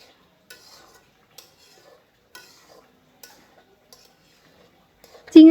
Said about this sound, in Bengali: আর এখন কিছুক্ষণ ভালো করে নেড়ে চেড়ে নিচ্ছি।